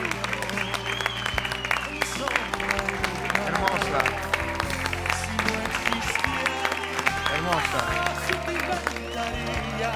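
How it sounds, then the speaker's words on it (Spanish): Studio audience applause on a television talk show runs continuously under music and a voice speaking over it. "Fuerte el aplauso para Alfano, vamos."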